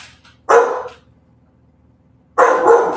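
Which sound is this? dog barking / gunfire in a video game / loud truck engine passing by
dog barking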